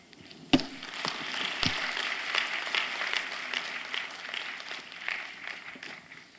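A congregation applauds in a church service to thank the pastor after a sermon, with dense, steady clapping sustained throughout and one sharper clap standing out near the start.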